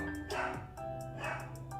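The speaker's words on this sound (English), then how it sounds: "Sorry, my dogs." Pet dogs barking indoors, a short run of several quick yaps in a rapid, uneven rhythm, fairly close and alone with no talk.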